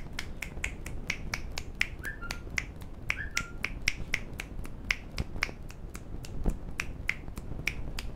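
An 81-year-old record-holding man snaps his fingers rapidly and steadily, a long run of crisp, evenly spaced snaps close to the listener with no talking.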